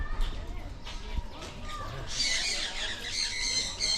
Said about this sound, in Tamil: ஃபுல்லாவே கிளி தான் ஒவ்வொரு வகையான கிளிகள் நிக்குது